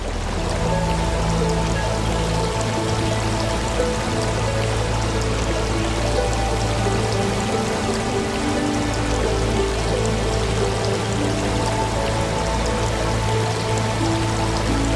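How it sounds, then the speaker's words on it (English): Cold, clear mountain stream in Yosemite National Park flowing steadily, a dense constant rush of water with no pauses, close and fairly loud. "the cold and clear water of the streams flows into the Tuolmne River"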